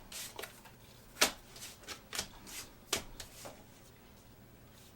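Tarot cards being shuffled by hand in a few soft, quick riffling bursts with quiet pauses between, close up and with no talking.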